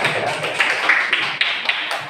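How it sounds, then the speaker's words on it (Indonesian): Classroom applause for a student's correct answer, a short burst of many hands clapping fairly close, dense and steady for about two seconds without talk. "Kita kasih tepuk tangan dulu."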